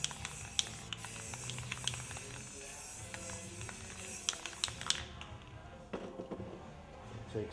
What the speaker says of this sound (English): Gonna lay down some my favorite color, the Seaside Blue by Rust-Oleum Painter's Touch.